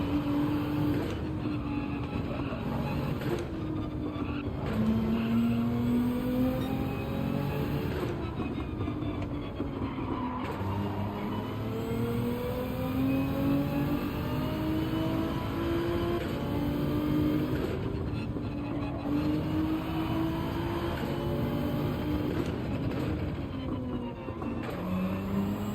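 Porsche race car in Gran Turismo 7 at Deep Forest, a continuous engine whine rising and falling in pitch through repeated gear shifts, steady and fairly loud, with no talking.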